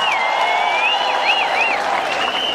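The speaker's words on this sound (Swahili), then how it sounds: "Hebu tumpigie makofi naibu wa rais." A crowd applauds the deputy president at a political gathering, a dense, continuous wash of clapping, loud and close throughout, with whistling tones riding over it.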